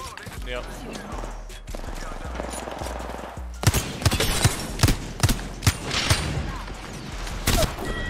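Rapid RE-45 pistol gunfire in the battle royale shooter Apex Legends, a run of sharp close shots in quick bursts over game ambience, with a player voice talking over the action.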